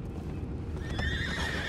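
A horse in Red Dead Redemption 2 gives a loud whinny over a steady clip-clop of hooves, heard fairly close with no talking.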